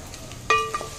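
A spoon scrapes and stirs Bengali bhoger khichuri in a pan, giving one short clinking stroke with a faint sizzle, close and alone.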